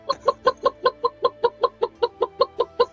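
A chicken clucks in a fast, evenly spaced series of about fifteen sharp calls, close and fairly loud, with no talking.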